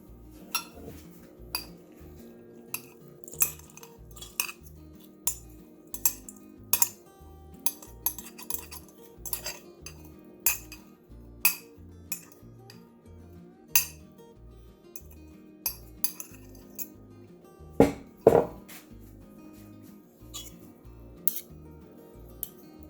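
Eggs being beaten in a bowl for homemade dog fish patties: steady, quick clinking and tapping of utensil against the bowl, fairly close, repeating throughout with a few louder knocks and no talking.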